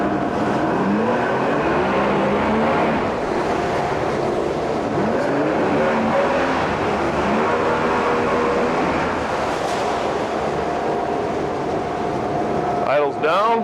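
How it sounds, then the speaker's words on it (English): A 1999 Mercury 75hp 20-inch tiller outboard boat motor runs in forward gear with a steady, continuous engine drone. It holds close and loud the whole way through, with no talking over it. "Makes the motor run a little different because it's pulling too much air"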